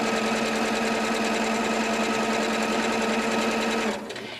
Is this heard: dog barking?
no